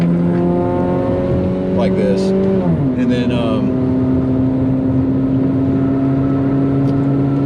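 A car engine drones steadily from inside the moving car, dropping in pitch at one gear change before settling into an even hum, while people talk over it.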